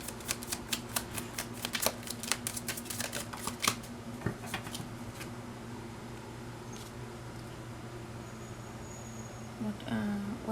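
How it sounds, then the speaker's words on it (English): Tarot cards being drawn and shuffled from a deck: a quick run of crisp, close card snaps and flicks, then quieter handling with light rustles over a low room hum. "Let's get some cards from this deck."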